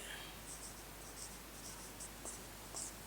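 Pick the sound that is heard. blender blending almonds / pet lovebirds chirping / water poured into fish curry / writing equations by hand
writing equations by hand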